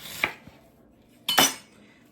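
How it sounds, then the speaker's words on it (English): A knife cuts an onion into wedges on a board, giving two sharp clicks near the start and then a louder, longer crunching slice, with no talk. "Then I'm just going to wedge up the rest of this onion."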